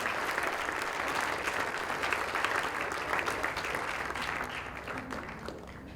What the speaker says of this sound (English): Can we all clap hands for these young kids?